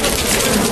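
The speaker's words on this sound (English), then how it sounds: "But these are native Japanese honeybees, and they're not quite as defenseless as their European cousins" Native Japanese honeybees swarm around their hive in a hollow tree, making a dense, steady buzzing that sounds close and loud throughout the short moment.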